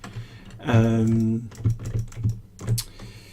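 Computer keyboard keys are pressed during 3D modelling work, with a scattered run of sharp, close clicks alongside a voice.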